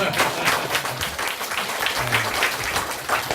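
Steady group clapping fills the room at a Korean author meeting led by a monk, the applause continuous and fairly close, with faint voices beneath it.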